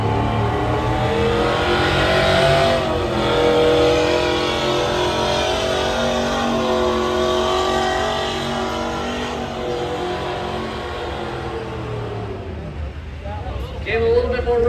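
Diesel test puller truck dragging a freshly set sled at a county truck pull, a loud sustained engine roar that builds and holds, then eases off near the end, with crowd babble and an announcer's voice.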